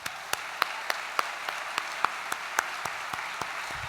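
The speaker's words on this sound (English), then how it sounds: "Please join me in a round of applause for these amazing ASHRAE volunteers." An audience at the ASHRAE plenary in Orlando applauds conference volunteers, a thin, even patter of many hands close by with sharper individual claps standing out at a regular pace.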